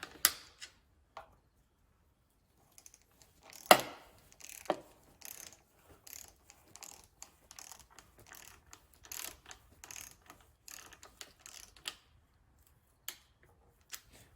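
Ratchet clicking in short scattered bursts while snugging plastic valve cover bolts in a star pattern on a Ford Ranger, close and fairly quiet, with pauses between strokes and no talk.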